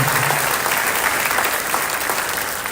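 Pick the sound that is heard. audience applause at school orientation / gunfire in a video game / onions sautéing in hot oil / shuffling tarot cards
audience applause at school orientation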